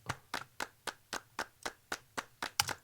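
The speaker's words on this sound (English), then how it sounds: "we've got some claps over here. These are real claps." Real hand claps recorded as a percussion track: about eleven crisp, evenly spaced claps in a steady rhythm, each sharp and close, heard alone against a quiet low hum.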